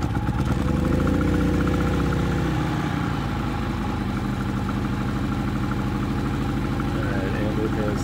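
Harbor Freight Predator 3500 inverter generator started with a push button and then running. It gives a loud, steady engine drone close by, with a shift in pitch early on as it settles, under a little background talk.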